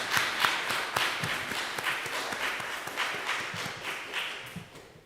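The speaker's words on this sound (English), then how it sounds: "Let's give each of these ladies a round of applause." An audience claps for a group of ladies, a scattered, moderately loud round of applause with distinct individual claps and some shuffling, tapering off toward the end.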